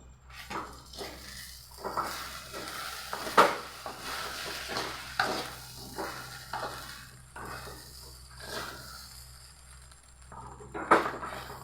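A spoon stirs semiya egg upma in a pan in a steady series of scraping strokes, with a soft sizzle underneath and a couple of sharper clinks against the pan.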